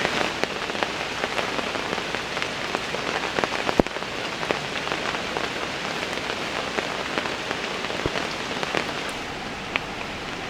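Rain falls steadily on a riverside campsite beside the Mangatarem River, pattering on nearby surfaces with scattered sharper drips and one louder tap, no voices present.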